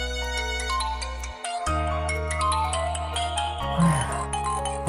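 A melodic phone ringtone plays loudly for an incoming call, a repeating electronic tune with sustained bass notes and bright chiming tones, close and continuous.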